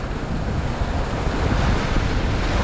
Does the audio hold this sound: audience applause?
no